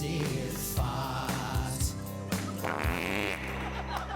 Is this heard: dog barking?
no